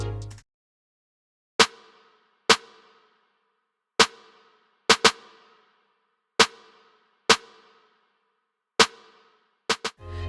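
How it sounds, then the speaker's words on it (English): A snare sample from the Cymatics 9God drum kit hits about a dozen times in an irregular pattern, each strike a sharp, dry crack with a short decay into silence, ending with a quick double hit. "So the snare we have will just sound like this."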